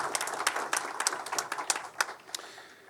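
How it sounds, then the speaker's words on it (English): A round of applause from an audience at a Preakness Festival event, brisk many-handed clapping at moderate volume with sharp individual claps standing out, fading slightly toward the end. "Please give them a round of applause"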